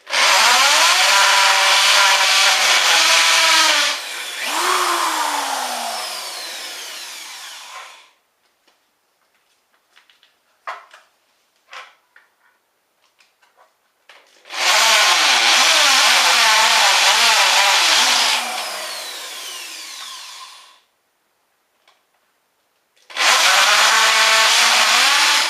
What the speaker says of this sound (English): all the holes have now been drilled